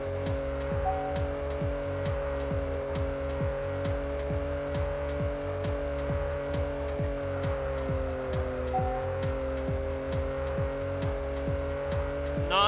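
Noble car driving in Test Drive Unlimited on PS2, a steady engine hum under a regular clicking tick that repeats evenly throughout, near and constant.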